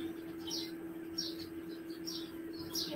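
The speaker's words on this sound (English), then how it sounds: "Listen to the birds chirping." Faint, high bird chirps repeat every half second or so over a steady low hum, soft and somewhat distant.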